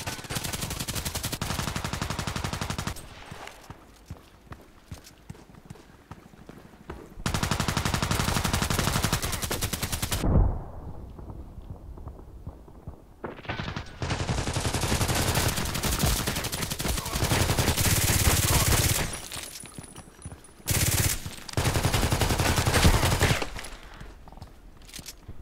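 Sniper rifle gunshots in a shooter video game, a series of sharp close cracks mixed with bursts of rapid automatic fire and echoing blasts.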